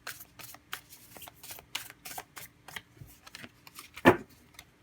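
Oracle cards being shuffled by hand, a rapid run of soft papery riffles and flicks with one sharper snap near the end; close and fairly quiet, with no voices.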